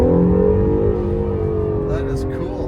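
An Acura NSX engine held at wide open throttle, a loud, steady mid-pitched drone with layered harmonics sustained close up from inside the car.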